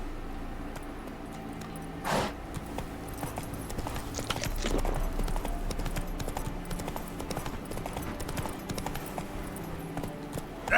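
Horse hooves clip-clop at a steady trot in the video game Witcher 3, a regular rhythmic patter up close with faint tack jingling and occasional louder thuds over a low ambient bed.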